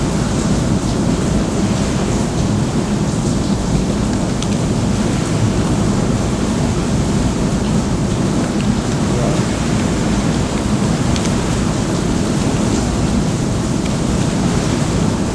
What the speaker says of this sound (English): You guys can hear that rain, can't you?